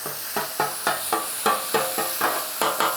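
Meat for a cheesesteak is chopped on a hot Blackstone griddle, with a spatula striking the surface about ten times in a quick, even rhythm over a loud, continuous sizzle.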